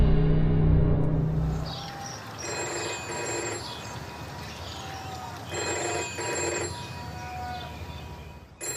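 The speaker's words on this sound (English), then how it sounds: "Simon's secretary phones Heath House. When he doesn't answer" An unanswered telephone at Heath House rings in repeated short bursts with pauses between them, moderately loud over a faint background.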